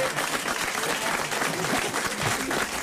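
A studio audience applauds with dense, steady clapping that holds at an even level throughout.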